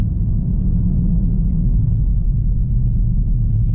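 A turbocharged ninth-generation Honda Civic Si driven hard on a night run gives a loud, constant deep rumble heard from inside the cabin, with no talking.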